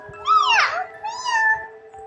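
A child imitates a cat with two loud, close meows, the first rising and falling sharply and the second longer and smoother.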